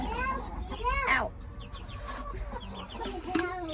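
Hens clucking inside a nest box on a chicken farm, close and intermittent, with people talking over and between the clucks.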